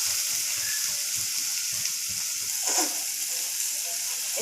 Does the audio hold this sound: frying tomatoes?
yes